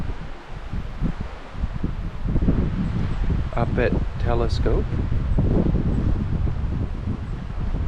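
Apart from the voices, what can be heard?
wind blowing at a lakeside campsite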